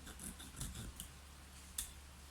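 Scissors snipping through a cactus stem during dragon fruit grafting onto an orchid cactus, a few quiet close crisp cuts over a soft background hum with no talking.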